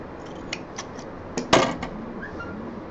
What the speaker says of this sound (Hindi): थोड़ा सा बड़ा हुआ है, इसको काट देते हैं।